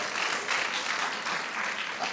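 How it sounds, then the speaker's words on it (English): An audience at a distinguished lecture event gives a short round of applause, fairly faint and uneven, with the clapping swelling and easing over a couple of seconds. "Give her a round of applause, please."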